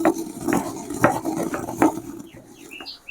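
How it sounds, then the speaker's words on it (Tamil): Fried mustard seeds are pounded in a small stone mortar, giving a series of dull, gritty thumps at about two per second. The strokes are close and fairly loud, followed by a few faint higher chirps at the end. "இது மாதிரி சின்ன உரலில் போட்டு நல்லா குறை குறைன்னு இடிச்சிக்கணும்"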